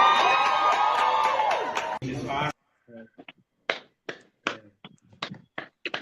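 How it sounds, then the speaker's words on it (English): At a live recap and testimony gathering, a crowd cheers and whoops for about two seconds. The noise then thins into scattered, sharp individual claps with silence between them. "Applause."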